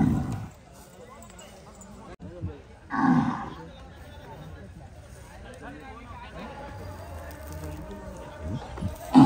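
Cattle lowing among a herd of bulls gathered for a village bull-race event, with a few deep moos rising over a busy background while people talk nearby.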